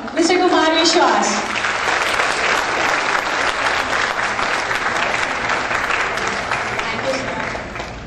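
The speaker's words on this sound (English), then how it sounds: "So let's welcome him with a loud round of applause, Mr. Kumar Vishwas." A convention audience greets a speaker on stage with loud, sustained applause, a dense wash of clapping that swells at the start and then holds steady before tapering slightly, with voices faintly underneath.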